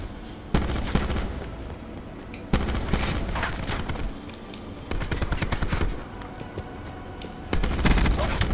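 Rapid automatic gunfire in the video game Black Ops 4 during a one-on-one match, loud bursts of shots in quick succession broken by short pauses, with a voice briefly heard over it.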